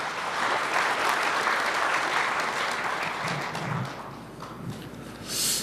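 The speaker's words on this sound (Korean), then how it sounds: "여러분 다시 한번 박수 부탁드립니다." An audience applauds at a Labor Day ceremony, a dense, steady wash of clapping that fades slightly toward the end.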